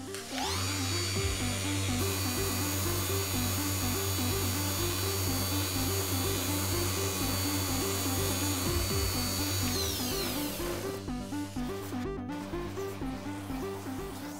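An orbital sander at its lowest speed works a plastic car headlight with 280 grit paper, a loud steady whirring drone with a high whine that cuts off near the end, leaving rattling and scraping.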